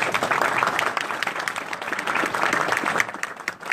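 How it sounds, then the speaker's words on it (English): Audience applause at a governor candidates' forum in Soldotna, a brisk burst of many hands clapping that carries steadily through the stretch. "With that nice applause"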